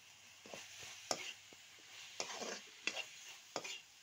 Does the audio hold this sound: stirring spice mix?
yes